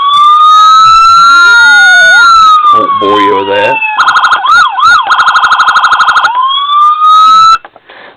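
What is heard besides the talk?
toy police car siren patterns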